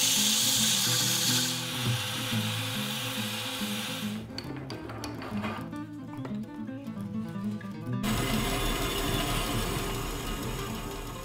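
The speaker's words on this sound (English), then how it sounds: "give the handle a good sanding while it's still on the lathe" Sandpaper rubbing against a wooden handle spinning on a lathe, a steady rasping hiss with a humming machine underneath, changing tone partway through as pressure shifts.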